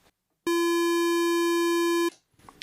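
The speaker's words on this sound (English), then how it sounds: "the patch I created in the Empress Zoya is a square wave." A steady, buzzy square-wave synth tone from an Empress Zoia pedal holds at a single pitch for about a second and a half, then cuts off abruptly, leaving faint noise.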